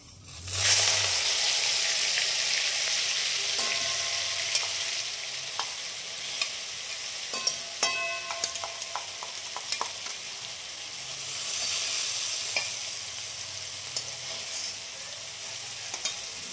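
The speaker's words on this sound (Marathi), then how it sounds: "तेल तापले जिरे टाकून घेते आणि हे आपण मग जे हिरव्या मिरच्याचं वाटण केले" Green chili paste sizzles in hot oil with cumin, a loud continuous fry that rises as the paste goes in and carries on under scattered stirring clinks and scrapes of a spoon against the pan.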